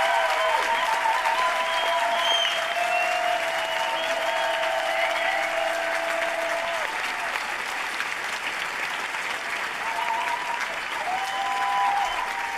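An audience applauds loudly and steadily for a nurse at a public gathering, a dense sustained wash of clapping with a voice briefly audible over it.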